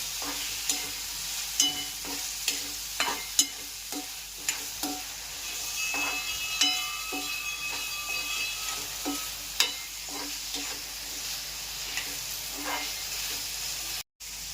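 Boiled vegetables cook for veg pulao in a pan, with a steady frying sizzle and hiss under a series of sharp spoon-stirring clacks against the pan, close and fairly loud, with no talking.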